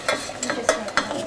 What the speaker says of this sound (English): Just keep stirring it round